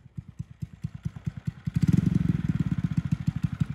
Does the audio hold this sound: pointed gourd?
no